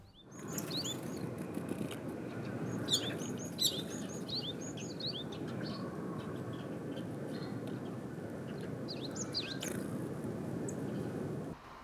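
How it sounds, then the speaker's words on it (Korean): At a winter feeder, great tits give thin, high chirps and short call notes in scattered bursts over a steady low rumble of background noise, the calls faint and coming mostly near the start and end. "박새입니다."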